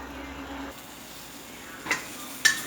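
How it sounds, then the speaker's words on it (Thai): Garlic and chili frying in an oil-slicked pan in a home kitchen: a soft, steady sizzle, with two brief clinks of a stirring utensil near the end. "บัดนี้เขาก็สีมากขั่วกระเทียมกับพริกด้วยจ้ะ"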